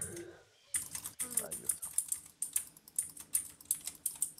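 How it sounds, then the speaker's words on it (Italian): Fast, busy clatter of computer keyboard typing, close and loud, with irregular bursts of keystrokes after a short quiet start and some faint background voice. "Se si sente del rumore strano è la mia tastiera."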